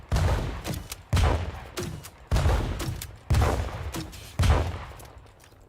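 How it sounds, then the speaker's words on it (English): Grenade launcher firing in the space-sim game Star Citizen: five heavy booming shots spaced about a second apart, each with a sharp onset and a long decaying rumble, loud and close with no talking. "So, there's the grenade launcher."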